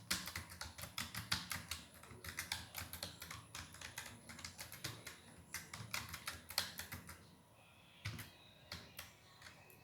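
Computer keyboard typing in an IT class, a steady run of quick, close key clicks with short pauses and a couple of heavier strokes, no voices.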